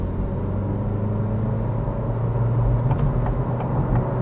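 A 2025 Acura Integra A-Spec accelerating at half throttle, a steady low engine drone with rising rumble heard from inside the cabin, with no talk over it.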